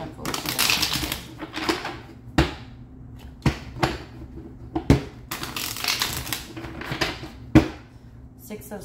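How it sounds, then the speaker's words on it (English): Crisp riffling and slapping bursts of shuffled tarot cards, several sharp snaps spaced a second or two apart, close and fairly loud, with a low hum beneath. "Two more shuffles."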